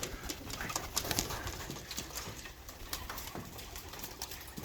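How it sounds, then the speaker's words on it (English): Young racing pigeons coo softly in a loft during warm weather, with low repeated burbling calls, scattered flutters and knocks, a steady background hiss and the birds moving nearby. "the birds are doing all right considering the weather"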